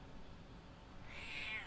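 A pet cat gives a single faint meow near the end, rising out of low background hum in a quiet room.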